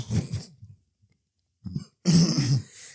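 A person clears their throat and coughs in a few rough, close bursts separated by short silences.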